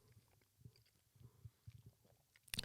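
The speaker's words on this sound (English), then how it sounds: "sorry if anyone could hear me chewing then" Someone chews a Rolo chocolate close to the mic in a quiet room, making soft, irregular squishy mouth sounds over several seconds, followed by a brief louder rustle at the end.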